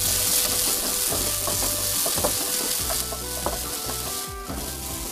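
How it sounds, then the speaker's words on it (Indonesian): Garlic and shallots sauté in about a tablespoon of hot oil, giving a continuous close sizzle and crackle broken by scraping stirring clatters from a utensil against the pan. "Panaskan kurang lebih 1 sendok makan minyak, lalu tumis bawang putih,"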